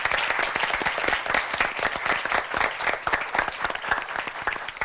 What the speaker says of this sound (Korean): 여러분 축하의 박수로 격려의 박수 부탁드리겠습니다